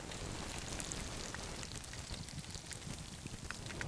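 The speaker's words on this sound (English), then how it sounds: "as I stand here in front of the boiling oil on the salmon that I'm grilling," Salmon grills over boiling oil with a faint, continuous crackling sizzle, soft scattered pops over a low steady hiss, with no voices.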